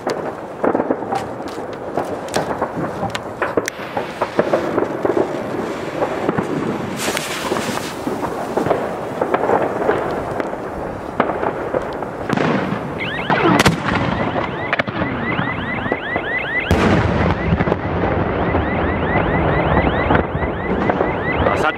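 5 inch Big Nut firework going off in the air, with repeated sharp booming blasts and crackling bursts spread over a long stretch, loud and near, separated by rumbling echoes and background noise.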